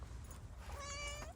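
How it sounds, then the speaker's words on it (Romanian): A pet cat gives a single drawn-out meow, clear and fairly close, over a low background hum. "asta e pisicuța mea"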